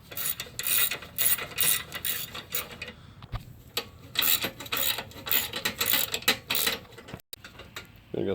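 A ratchet runs in quick repeated clicking bursts while bolts on a Ford Escape 1.6L turbo engine are tightened to 35 foot-pounds. The bursts are close and fairly loud, with short pauses between them and no talk.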